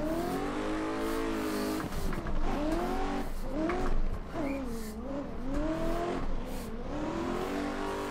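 A drift car launches in second gear with the clutch slipping, its engine revving loud and close, pitch rising and falling in repeated sweeps, with tire squeal through most of the run.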